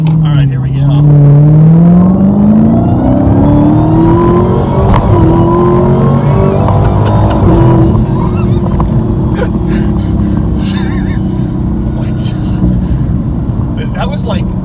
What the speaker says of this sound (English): you can hear the supercharger whine, which sounds great